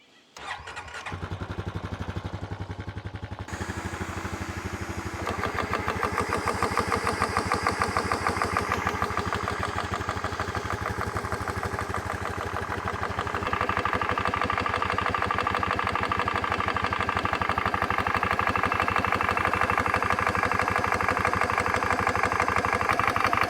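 A Honda Rancher ATV engine with a portable PCP compressor installed cranks and catches, then settles into a loud, steady mid-pitched idle close by for about twenty seconds.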